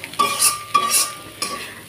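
Eggs frying with turmeric get stirred in a pan: three distinct scraping strokes sound close, with a faint frying hiss beneath and no talking.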